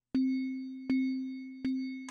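Three evenly spaced bright glassy clinks, each ringing out and decaying before the next, used as a sound effect in the Incredibox Time mod game, ending with a short softer tap.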